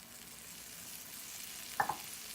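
Mushroom masala sizzles steadily in a frying pan as water is poured in, giving a couple of brief sharp bursts over the continuous hiss.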